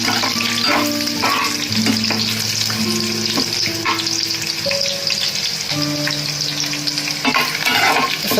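Peanuts and cashews sizzle in oil in a pan for upma, a steady close crackle with stirring scrapes and faint tonal background sounds, continuous and loud with no talk.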